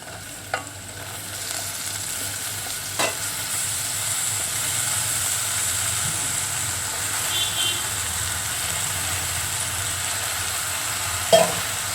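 Small raw banana pieces sit in a pan of frying onions for aratikaya curry, giving a soft, steady sizzle and hiss with a few sharp utensil taps scattered through.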